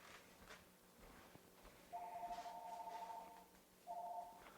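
An indoor telephone rings with an incoming call in two electronic trills, a longer burst followed by a shorter one, faint and somewhat distant over a quiet background.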